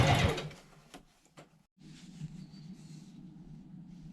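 A sewing machine stitches fabric nearby. It opens with a loud burst, then settles into a steady, continuous whir with brief pauses, and no talking.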